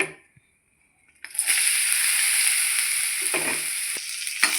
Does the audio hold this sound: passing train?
no